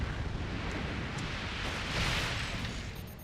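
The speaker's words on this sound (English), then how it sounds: "now fire incendiary mortars only" Incendiary mortars fire in a strategy video game, a dense continuous roar of rumbling explosions and crackling bursts swelling briefly toward the end, with no voices.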